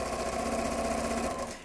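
A sewing machine runs continuously while stitching bias-cut fabric, a steady close mechanical whir lasting under two seconds before fading out at the end.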